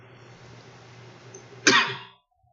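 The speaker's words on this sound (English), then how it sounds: "I'm just coughing" A single sharp cough bursts out near the end, loud and close, after a stretch of quiet background hum.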